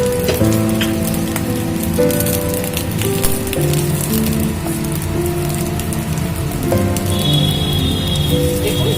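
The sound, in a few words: bay leaf and cardamom frying in ghee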